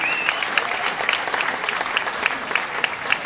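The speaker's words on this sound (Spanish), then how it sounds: "Fuerte un aplauso para él" Audience at a live concert clapping for the sound engineer, dense clapping with sharper individual claps standing out, with a faint whistle or cheer near the start.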